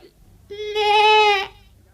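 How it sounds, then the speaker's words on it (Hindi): A goat gives one drawn-out, nasal bleat, clear and close, with quiet surroundings before and after. "और ये तुम्हारी बकरी है?"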